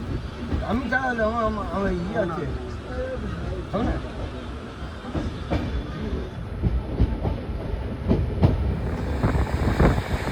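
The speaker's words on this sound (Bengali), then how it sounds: "আমাদের ট্রেন শান্তিনিকেতন এক্সপ্রেস বোলপুর ছাড়ার পর কিছুটা এরকম গতিতে চলছে" The Shantiniketan Superfast Express rumbles along at speed after leaving Bolpur, with a steady, rattling mechanical drone, while people talk nearby over the noise.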